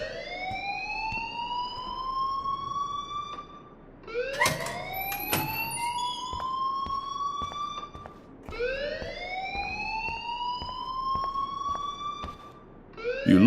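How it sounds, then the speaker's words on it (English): A school alarm in the video game Life Is Strange wails in loud rising sweeps, repeating about every four seconds, and sounds alone with no talk over it. "please turn off that alarm since that's your job."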